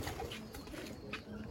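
A male Sapchila pigeon in a fancier's loft gives soft, low coos, a few rounded calls rising over a quiet background with faint rustling and no speech.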